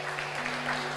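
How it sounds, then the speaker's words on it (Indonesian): Brief burst of audience applause for the winning team at a junior high school Quran quiz competition in Pasaman, a dense clatter of many hands, with a faint steady hum underneath. "Berkat tepuk tangan yang meriah untuk regu B"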